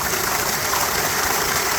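Dirty water draining steadily from a secondary water filter valve, a continuous close splashing gush without pauses or talk.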